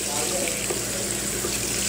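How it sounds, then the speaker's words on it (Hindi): Tap water runs steadily into a pot of rice being rinsed in a home kitchen, a continuous splashing stream that is close and loud throughout. "यहाँ हम राइस धो लेंगे।"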